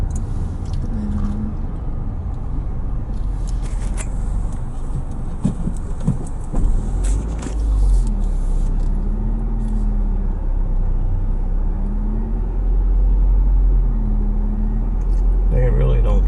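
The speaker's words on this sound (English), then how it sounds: "There's a car behind us." A car follows close behind on a rural road in Lapland, Finland, its steady low engine and tyre rumble running throughout beneath people talking, with a slight swell in the final seconds.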